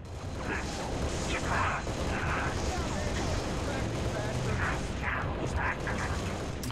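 Rapid gunfire from the Halo Reach video game, constant and loud through a dense battle mix, with mechanical clatter and bursts over a steady rumble while a player talks over it.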